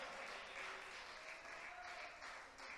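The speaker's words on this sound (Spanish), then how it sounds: "Dele aplausos al Rey de Gloria." A church congregation applauding during a Spanish-language sermon, a steady wash of distant, faint clapping that holds evenly throughout with no voices on top.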